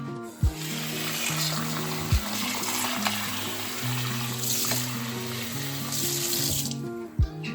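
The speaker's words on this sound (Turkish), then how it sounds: "ılık suda yıkayacağım" Steady running lukewarm water splashes from a tap into a sink while liver is washed, with occasional low thumps and clinks of handling.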